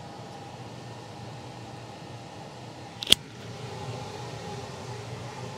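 A steady, even whoosh of a spray booth exhaust fan, heard near its outlet, runs throughout at low volume, broken once by a brief sharp clink.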